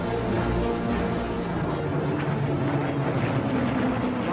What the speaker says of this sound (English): Nice sound to hear 3 Merlins though in the air